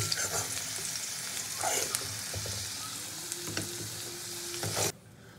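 Potato pieces frying in oil in a pan, a steady close sizzle with occasional clinks and scrapes of stirring, cutting off abruptly near the end.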